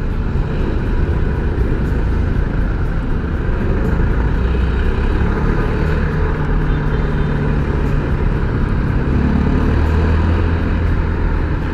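Heavy Sunday road traffic near SM City Sto. Tomas shopping mall makes a constant low engine rumble and hum, loud and unbroken, without talk.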